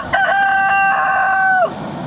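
A homestead rooster crows once, loud and close, a single long drawn-out call that ends with a falling tail.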